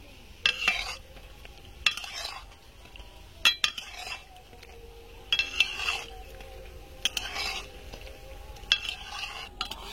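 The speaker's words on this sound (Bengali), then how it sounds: "হাতে টাইম রেখে এরকম খুব সুন্দর করে উল্টে পাল্টে ভেজে নেব।" Cake batter fries in a pan and is turned now and then, a soft, steady sizzle broken by repeated sharp clinks and scrapes of a utensil against the pan.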